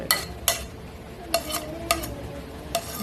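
Chopped onion, chilli, ginger and garlic being mixed in a bowl, giving a few sharp, close stirring scrapes and clinks spaced about half a second to a second apart over a soft background.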